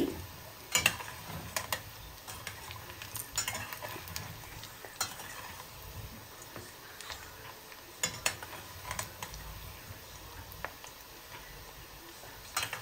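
Bread pieces fry in oil for gulab jamun, a soft steady sizzle with repeated scraping clicks from stirring, fairly quiet and close, with no talking.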